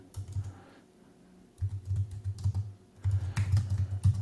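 Someone types a prompt on a computer keyboard in quick, close bursts of clicky keystrokes, separated by short pauses, with no speech over them.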